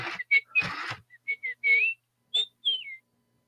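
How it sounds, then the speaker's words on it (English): A person whistles a short series of bright, warbling notes in quick bursts with brief pauses, close and clear against silence. "he gave you a little whistle there at the end"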